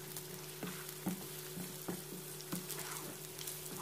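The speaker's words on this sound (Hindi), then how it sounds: "इसको मैं तब तक फ्राई करूँगी जब तक चिकन का कलर वाइट हो" Chicken frying in a pan for biryani, a soft continuous sizzle over a steady low kitchen hum, punctuated by regular light clicks and taps of stirring, quiet and close.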